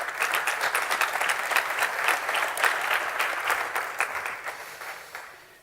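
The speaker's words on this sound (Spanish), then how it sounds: "un gran aplauso" Warm applause from a medical conference audience welcoming a speaker, steady dense clapping that swells briefly then fades out gradually, with no talking over it.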